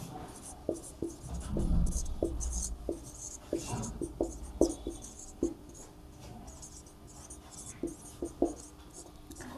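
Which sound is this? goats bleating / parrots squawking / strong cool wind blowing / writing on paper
writing on paper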